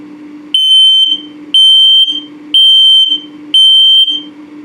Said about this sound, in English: And then of course the low battery alarm.